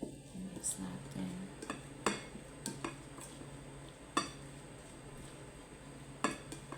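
A spoon clinks against a bowl while Caesar salad is tossed with its sauce, soft scattered taps and scrapes at close range over a quiet background.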